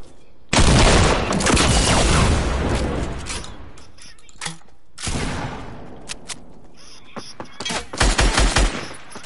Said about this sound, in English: You dude got a double barrel shotgun.